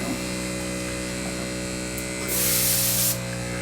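A steady electrical hum runs throughout, then a loud hissing burst of airbrush paint spray lasts under a second near the end, close to the mic, with no talking.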